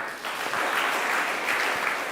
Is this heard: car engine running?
no